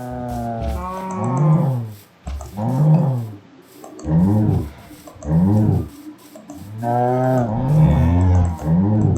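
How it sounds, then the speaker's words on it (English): Cows mooing in the Minecraft modpack Blightfall, a series of loud, close, drawn-out moos repeating roughly every second or two with short gaps between. "And now I am punching out these cows"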